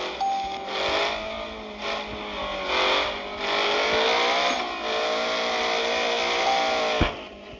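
A car engine in a driving video game revs and strains along dirt trails, its pitch rising and falling through bursts of acceleration, with a sharp knock near the end.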